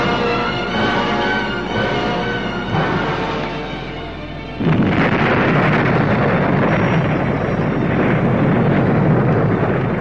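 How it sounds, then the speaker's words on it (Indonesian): A loud explosion effect marks two magical powers clashing in a dramatized story, a sudden heavy roaring burst that erupts after a tonal, droning buildup and then sustains as a dense rumbling blast with no voices. "Lalu terdengarlah ledakan keras, dua kekuatan berbenturan."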